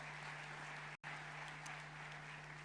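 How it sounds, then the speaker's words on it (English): Delegates at the Africa Climate Summit 2023 in Nairobi give a round of applause, a steady wash of many clapping hands, quiet and distant, broken by a split-second dropout, with a low electrical hum beneath. "give the leadership, the people, all the different organizations in this room a round of applause"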